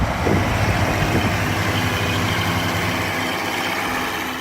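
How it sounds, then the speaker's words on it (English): A Case 1070 Agri King tractor's six-cylinder diesel rumbles steadily at close range, a deep, even low-end drone that holds without a break and fades slightly at the end. "that deep 6-cylinder rumble rolled across the yard"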